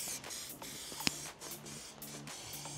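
Aerosol spray paint hissing onto a car lamp in short, repeated bursts, close and fairly steady, with one sharp click partway through and no talking.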